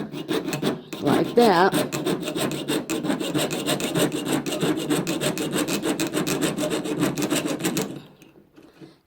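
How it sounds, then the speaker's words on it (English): A jeweler's saw cuts a metal heart held on a bench pin, heard as a fast, steady rasp of short rhythmic strokes, close and loud, running for several seconds before stopping; a brief spoken phrase comes at the start. "Then I'm going to saw in place as I turn my piece of metal."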